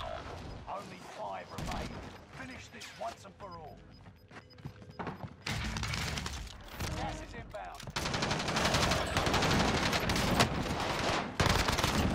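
Rapid automatic gunfire from an Owen Gun submachine gun in Call of Duty Warzone on Rebirth Island. Bursts rattle over game noise and grow dense and loud toward the end, while a voice talks over it.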